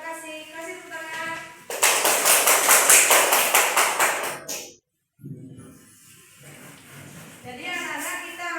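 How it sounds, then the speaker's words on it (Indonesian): A group claps in a quick burst of rhythmic applause lasting a few seconds, with voices before and after. "Kasih tepuk tangan."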